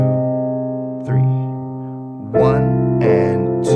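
Piano playing the intro of a song in a beginner arrangement, with a held low note under three separate right-hand chords. The notes ring clearly and close up, with a faint voice counting softly at times.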